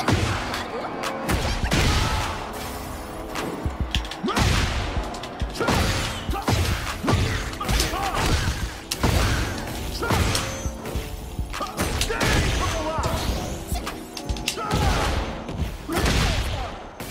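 Tekken 8 fight sounds, a dense stream of punchy impacts, thuds and crashes in rapid irregular bursts, loud and continuous with no talk.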